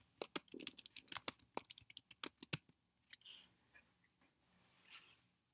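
Quick bursts of keystrokes on a computer keyboard while entering text for a laser-etched coaster design, crisp clicks clustered in the first half, then a few sparse soft taps in a quiet room.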